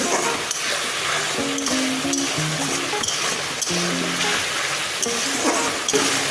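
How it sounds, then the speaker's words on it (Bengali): Potato pieces frying in hot oil in a pan for a spicy mixed-fish curry, a steady dense sizzle with clinks and stirring scrapes throughout, close and fairly loud, no voices. "আলুটা দিয়ে ভালো করে ভেজে নেব।"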